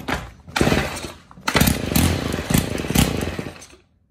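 A Stihl KM 90 R two-stroke kombi trimmer engine, warm and started without choke, sputters to life with a couple of revving bursts and then dies out, loud and close with no talk.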